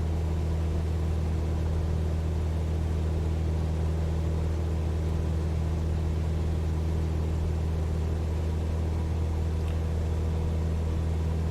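An aircraft engine in Microsoft Flight Simulator runs at full throttle while losing power, making a loud, steady, unbroken drone with a strong low hum throughout and no voices.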